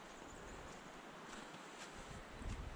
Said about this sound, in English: Awesome river.